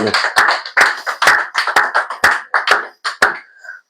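A church congregation claps in acclamation of Jesus, about a dozen loud sharp claps in a steady rhythm before a brief closing tone.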